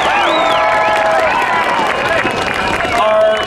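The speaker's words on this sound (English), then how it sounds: "give him a big round of applause" A school family night audience applauds and cheers for the head principal, loud dense clapping mixed with crowd voices and whoops that continue throughout.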